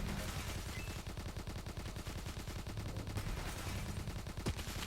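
Rapid turret gunfire in the tower-defense game Road Defense Outsiders, a dense, continuous rattle of shots holding steady and loud for the whole stretch.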